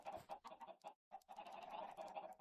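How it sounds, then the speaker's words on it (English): Minecraft chickens in a modded survival world give a series of short clucks in quick succession, a brief pause, then more clucking, clear and close. "we're either going to get a white chicken or we're going to get like a light blue chicken"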